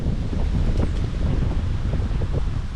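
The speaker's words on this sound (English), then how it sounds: "it is super windy out here." Strong wind buffeting the microphone, a continuous loud rumble with gusty swells throughout.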